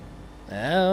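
Gran Turismo 3 race car engine rising sharply in pitch midway through a brief moment, a loud climbing rev that swells after a quieter start; no distinct tire noise stands out.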